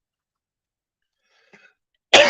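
A single sharp cough bursts in at the very end after near silence, preceded by a faint brief murmur.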